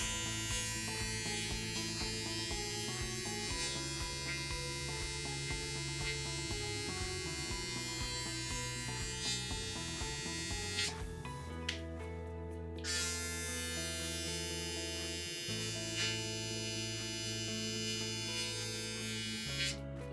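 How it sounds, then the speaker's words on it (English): A Braun Series 9 Pro+ high-power electric foil shaver runs steadily close by, a continuous buzzing whine that shifts pitch slightly a few times as it moves, with no talking. "It's not too loud, completely normal for a high-power foil shaver."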